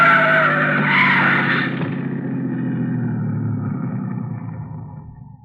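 Car tires squeal in a long, loud skid as a car squeezes past a truck in a radio drama effect, the shriek fading into a rumbling engine that slowly dies away.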